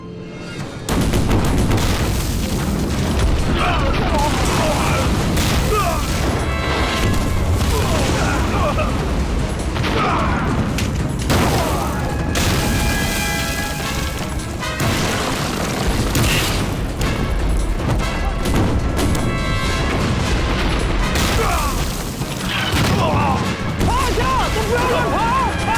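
An artillery bombardment by Japanese forces shakes a Chinese wartime drama, with continuous heavy booms and rumbling blasts in dense, overlapping waves under frantic shouting voices.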